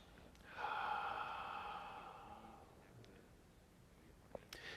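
One long, soft, airy exhale through the nose during a gentle yoga practice, close and quiet, fading out into near silence.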